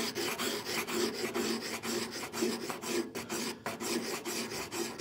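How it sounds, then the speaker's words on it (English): Sandpaper glued to a 3/4 inch wooden dowel rasps back and forth over a wooden saw handle in steady, close rubbing strokes, with no talk. "This is 3/4 inch dowel, piece of sandpaper glued to it."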